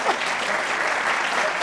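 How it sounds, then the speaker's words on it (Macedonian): Spontaneous audience applause for Gjorgje Ivanov at a Macedonian talk show taping, a steady, dense clapping from a studio crowd filling the short moment without any voices on top. "Еве еден спонтан аплауз за Ѓорѓе Иванов."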